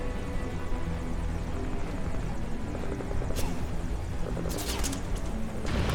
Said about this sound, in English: Keep them off the chopper.